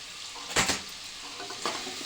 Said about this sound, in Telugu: ఇవి కొంచెం బాగా ఫ్రై అయ్యేంత వరకు ఫ్రై చేసుకోవాలి వేగనీయాలి ఆయిల్లో